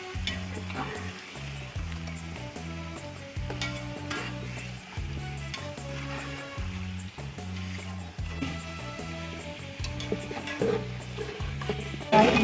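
Chicken pieces fry and brown in a pan for kabuli pulao, a steady sizzle broken by regular stirring strokes, with music playing faintly underneath.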